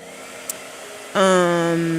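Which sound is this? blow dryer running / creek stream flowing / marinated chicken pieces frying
blow dryer running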